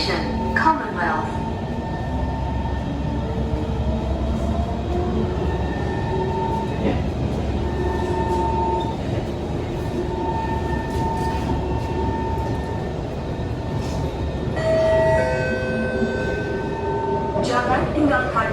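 A Singapore MRT train, set 129-130, rides westbound toward Queenstown, heard from inside the car. There is a steady rumbling roll, pitched motor whines that rise and fall, and occasional announcements over the hum.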